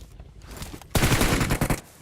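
Gunfire in the PUBG Mobile battle royale game, a faint scattered crackle followed by a loud burst of rapid automatic shots lasting about a second, close and dense.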